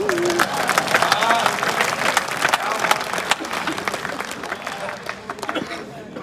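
An audience at a Hindi poetry gathering claps in a dense burst that gradually thins out, with crowd murmur and a voice speaking over the applause.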